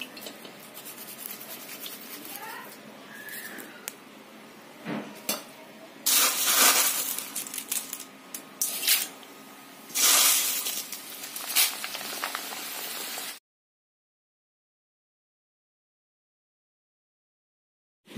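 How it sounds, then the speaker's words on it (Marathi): Leftover corn poha flakes deep-fry in hot oil with a steady hissing sizzle, surging into louder crackling bursts as each batch drops in, then cutting to silence. "मग याच्यामध्ये आपण उरलेले मक्याचे पोहे आहेत ते तळून घेणार आहे."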